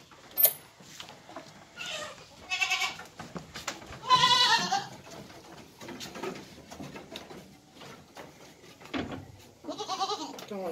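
Goats bleating inside a wooden goat shed on a small farm, several overlapping calls at moderate loudness with bird chirps mixed in, a few louder bleats breaking out over a steady barnyard background.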